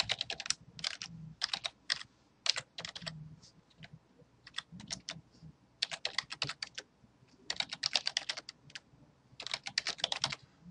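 Someone types an email address on a computer keyboard, with quick bursts of clicking keystrokes separated by short pauses, close and fairly quiet in an otherwise silent room.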